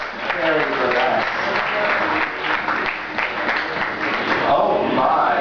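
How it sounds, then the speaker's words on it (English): An audience at an anime convention fashion show claps and cheers loudly and steadily for a fairy burlesque costume, while a voice talks over the applause. "Applause for our fairy burlesque."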